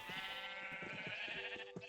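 Sheep bleat in Minecraft, several short wavering calls in quick succession over a steady tonal background hum, fairly faint and without speech.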